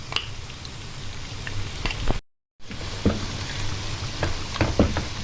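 Steady crackling sizzle of flour frying in ghee, with scattered pops and scraping stirs, briefly cut to silence before resuming.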